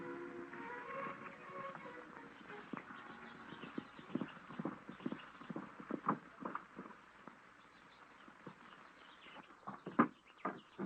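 Several horses' hooves clip-clopping as riders approach on a 1930s Arizona ranch, irregular thuds growing louder and nearer over a faint background.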